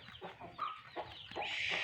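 Chickens cluck close by in a short run of soft, uneven calls that rise into a higher, louder squawk at the end, with no voices.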